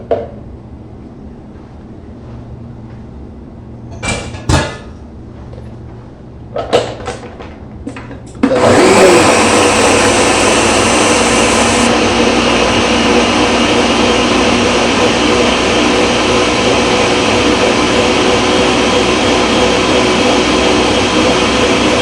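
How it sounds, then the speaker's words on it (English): A Ninja blender whirs at full power for soup of carrot, turmeric and ginger, starting abruptly after a few clicks and knocks and then running loud and steady for over ten seconds. "I'm just going to take this and put it into my Ninja blender"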